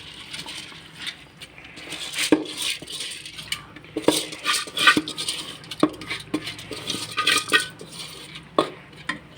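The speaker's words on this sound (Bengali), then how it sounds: "আমি এখন চাল ডালগুলো দিয়ে দিচ্ছি" Rice and lentils tipped into a pot for a home-cooked biryani give a stretch of scattered rattling, clinking and scraping, with irregular bursts of grains and utensil knocks against metal, fairly close and without talk.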